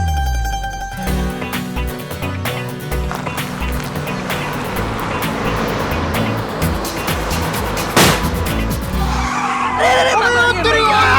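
Car skidding on a forest road as a tyre punctures: loud tyre screech and rumbling, rolling noise over a dramatic music score, with a sharp bang partway through and continuing scraping afterward.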